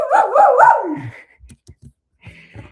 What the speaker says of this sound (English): My dogs are going wild.